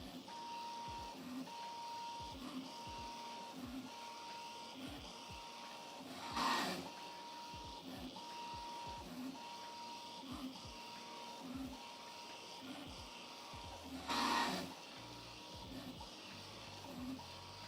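Prusa Mini+ 3D printer fitted with a REVO hotend, printing a Benchy at rising speed: a steady repeating pattern of stepper-motor whirs and ticks with a faint tonal whine, pulses coming in a regular rhythm, with two brief louder bursts.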